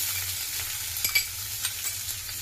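Sliced onions sizzle steadily in hot oil with mustard seeds in a pan, with a few close scraping stirs of a spoon breaking through the constant frying hiss.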